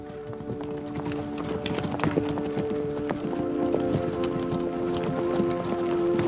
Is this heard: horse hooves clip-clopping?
yes